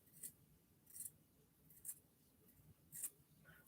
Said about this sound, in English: take some scissors and trim this overhang